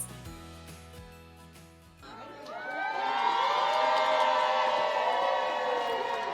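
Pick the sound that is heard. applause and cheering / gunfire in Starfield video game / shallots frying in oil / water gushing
applause and cheering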